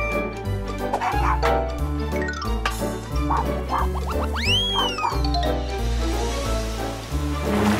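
Cartoon dog barks in a German children's animation about a dog contest, short yaps and playful cartoon effects over a constant bouncy music bed.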